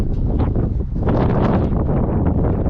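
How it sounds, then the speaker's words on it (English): Strong gusts buffet the microphone outside a 2021 Mercedes-Benz GLA 250, a loud, continuous rumbling roar with no voices. "It's a bit windy."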